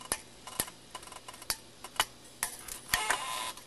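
Loosened guitar strings on a Floyd Rose tremolo are snipped with clippers, giving a series of crisp, isolated clicks and snaps at uneven intervals that grow denser toward the end, close and fairly quiet.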